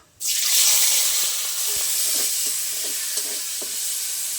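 Chopped tomato and slit green chillies hit hot oil, bursting into a loud, steady sizzle with hissing steam and occasional stirring clicks, close up and with no voices.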